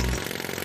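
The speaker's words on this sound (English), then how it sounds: "Jackhammer." A jackhammer breaking up a road, a dense, loud, rapid pounding rattle heard close and continuous for a brief moment with no voices over it.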